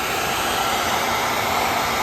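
A cheap hair dryer blows steadily at close range on a rifle's metal floor plate, a loud, constant whooshing roar with an even motor hum and no pauses.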